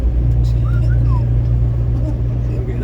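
Big rig semi truck pulling up to speed in 12th gear near the I-80 merge, a steady loud low diesel drone filling the whole stretch, with a voice talking over it.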